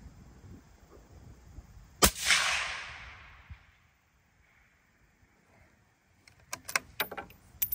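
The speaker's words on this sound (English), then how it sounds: "we're going to shoot a three shot group." Rifle fitted with a PARD DS35 night vision scope fires one sharp, loud crack that rings off and decays over about a second, followed by a few light mechanical clicks and rattles.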